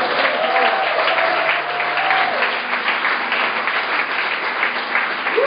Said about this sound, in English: Somebody clap. Somebody shout.